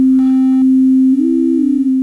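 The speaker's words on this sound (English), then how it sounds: "I'm going to pick some sine waves, bit reduce them" Bit-reduced sine wave tone from an ASM Hydrasynth synthesizer, a loud steady pure pitch with a brief upward step and a gritty, slightly stepped texture in the middle, lasting about two seconds.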